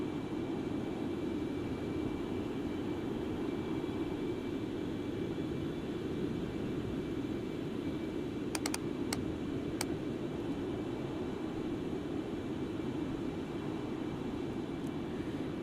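Steady broadband engine roar of a Concorde in a flight simulator as the throttles ease back in cruise, constant and even throughout, with a few faint clicks near the middle.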